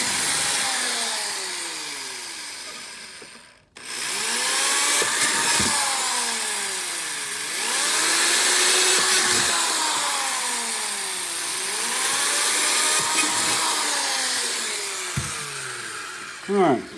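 Drill bit boring marked holes in a transmission part for a 1985 S10 trans kit, close and loud, whining in repeated rising and falling bursts with a brief stop early on.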